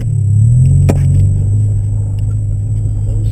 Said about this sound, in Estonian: see auto müra vist on nii suur